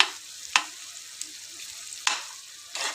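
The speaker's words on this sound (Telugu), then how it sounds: "బీట్రూట్ ఫ్రై ఆయిల్లో మంచిగా వేగుతుంది." Beetroot frying in oil in a pan, a quiet continuous sizzle broken by several sharp scraping stirs of a spoon, with no talking.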